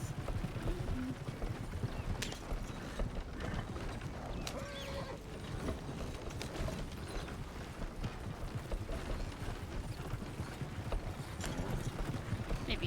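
Horse hooves clip-clop in a steady, rhythmic trot while riding in a video game, moderately close and clear over quiet ambient background, with occasional faint mechanical ticks.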